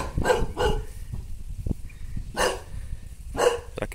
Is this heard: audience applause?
no